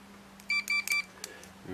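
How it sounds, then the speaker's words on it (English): A multimeter's continuity test gives a few short, high electronic beeps in quick succession, then one more brief beep, faint over a low background hum. "On ohms we'll do the beep test."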